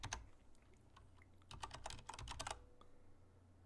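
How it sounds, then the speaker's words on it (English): Quiet keystrokes on a computer keyboard as a filename is entered, with a few isolated taps and then a quick burst of rapid typing in the middle, heard close and alone with no talk. "so again, I'm going to type that out."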